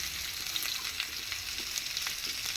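Raw mango pieces for pickle frying in a pan while being stirred, a steady close hissing sizzle with small scraping stir noises throughout, no talk.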